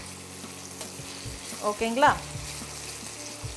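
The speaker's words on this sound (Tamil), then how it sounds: "இப்போது இந்த உப்பு போட்டதுனால உருளைக்கிழங்கோட தண்ணி எல்லாம் வெளியே வர ஆரம்பிச்சதுனால தான் அந்த சிசிலிங் சவுண்டு" Salted potatoes sizzle steadily in frying oil for a Spanish tortilla, with a soft continuous crackle, a short stirring scrape in the middle and a brief spoken word.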